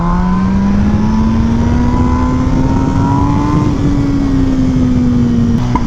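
Onboard sound of a base-model MV Agusta Brutale motorcycle being ridden: a loud, steady engine drone with wind rush, pitch rising gently then easing slightly as it cruises.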